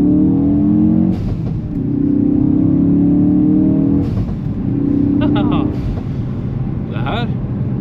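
A car engine revs close by in repeated surges, climbing in pitch, dropping back, then rising again, loud and near.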